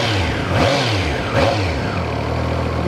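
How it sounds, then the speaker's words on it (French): A Triumph Trident three-cylinder motorcycle engine revving twice in quick blips over a rough idle, loud and close, with no talking. "Vous entendez le son caractéristique du 3 cylindres avec ce petit sifflement qui n'est pas trop dérangeant"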